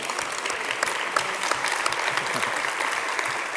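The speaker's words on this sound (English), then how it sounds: "You can clap louder." Audience applause at a board meeting, dense and steady clapping from a sizeable crowd filling the whole stretch at an even, moderately loud level.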